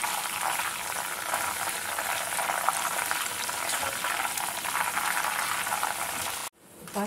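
Potato chips frying in hot oil as a little salt water is added, giving a loud, dense, steady sizzle and crackle that runs continuously before stopping abruptly near the end.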